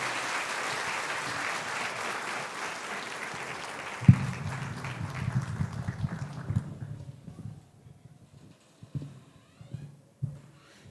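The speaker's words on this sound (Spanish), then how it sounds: "Denle un fuerte aplauso al Señor" A church congregation claps loudly and steadily for several seconds, then the applause thins into scattered claps and taps before fading into the quiet room.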